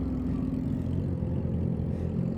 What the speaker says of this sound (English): His bike is insanely loud.